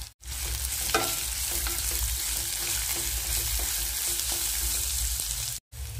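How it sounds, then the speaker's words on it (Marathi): Green chillies and grated mango sautéing in oil, a dense, even sizzle with soft stirring underneath, close and steady until it cuts out near the end, with no voices. "हिरवी मिरची छान परतून घ्यायचं। हे छान परतून घेतल्यानंतर यामध्ये आंब्याचा किस टाकून घ्यायचा।"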